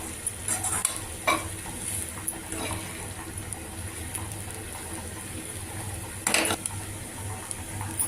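Beans stir-frying in a pan, a continuous sizzle running throughout with periodic scraping and stirring strokes from a spatula, close and fairly loud, no speech.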